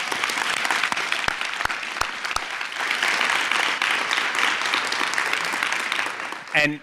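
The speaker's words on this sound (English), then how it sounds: "can we give a round of applause for everybody who's in the front lines doing this work?" At a community World AIDS Day event, a crowd applauds front-line workers with a full, sustained wash of clapping, a few sharp close claps early, and a brief voice breaking in at the very end.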